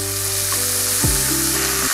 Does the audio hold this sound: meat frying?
yes